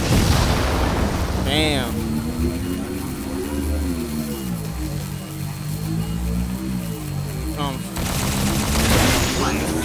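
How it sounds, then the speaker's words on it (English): Rapid gunfire bursts fill a Halo 4 capture-the-flag multiplayer match on the Ragnarok map, loud and continuous, with a player talking over the shooting. "Who the fuck is shooting at me?"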